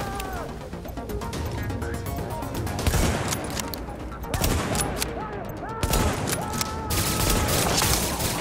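Rapid bursts of automatic gunfire in Tom Clancy's The Division, loud and close with several sharp volleys and brief lulls between them, plus cracks of impact over the rattle.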